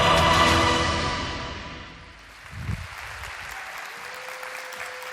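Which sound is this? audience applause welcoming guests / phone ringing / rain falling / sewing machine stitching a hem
audience applause welcoming guests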